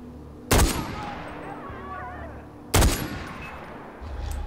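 Two loud bursts of gunfire from the video game Far Cry 4, each a sharp report with a decaying tail, about two seconds apart over steady game ambience.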